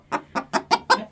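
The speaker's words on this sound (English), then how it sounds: "That one's going to make a little baby chicken." American Bresse hens cluck close by in five quick, evenly spaced notes within about a second, loud and clear with no voices over them.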